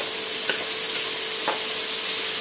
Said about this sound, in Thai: หลังจากนั้นใส่ถั่วฝักยาวลงไปค่ะ